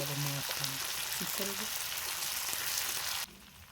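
Marinated tandoori chicken fries in butter and oil in a pan, giving a steady, close hiss and sizzle; a voice briefly speaks over it early on, and the sizzle drops abruptly near the end.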